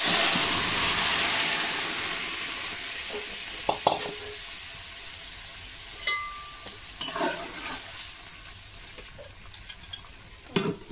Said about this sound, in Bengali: এখন শুক্তোটা ঢেলে দিচ্ছি